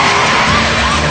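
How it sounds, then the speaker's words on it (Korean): Cars in a high-speed action-movie chase, tires skidding and squealing loudly across a short, dense burst of engine and road noise. "자동차와 자동차가 펼치는 숨막히는 추격신"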